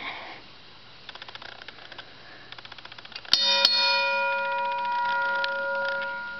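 A half-scale railroad level crossing's electronic bell starts with a sharp clang after a series of light ticks, then rings on as steady sustained electronic tones.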